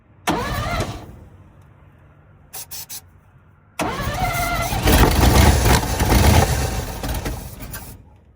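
A 1957 GMC 350 truck with a carbureted engine, left sitting for 37 years and popping back through the carburetor, cranks and sputters in short bursts, then catches and roars into loud, rising revs close by.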